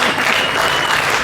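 A brief, loud burst of audience applause for a contestant at a state fair stage show, dense crowd clapping with no gaps.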